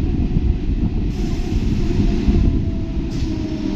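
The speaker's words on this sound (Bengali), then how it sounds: "সো এই যে ট্রেন বেরিয়ে যাচ্ছে আমাদের" A train pulls out of Magra station with a loud, steady low rumble and rolling wheel noise, close by and continuous, no voices over it.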